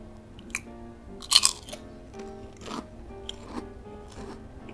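Kerupuk crackers eaten with boiled egg, heard as close, crisp crunching bites and chewing in irregular bursts, one especially loud crunch early on, with no talking.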